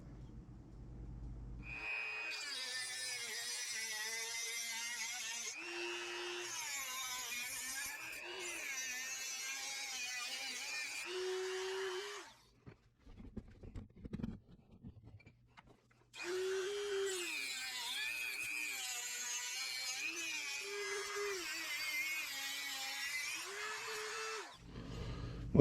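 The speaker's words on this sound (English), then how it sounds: "I'm going to use the Dremel, and I'm going to do a rough cut first to get rid of the bulk" A Dremel rotary tool rough-cuts a rear-view mirror bracket on an FFR MkIV Roadster, whining steadily in two long close-up passes with a shifting pitch, separated by a short quieter pause.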